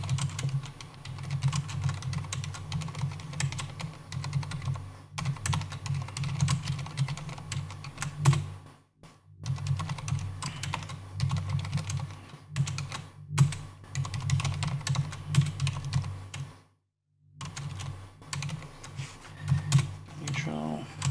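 Code being typed on a computer keyboard in quick, steady bursts of clicking keystrokes, close and fairly loud, with a couple of short pauses and a low hum underneath.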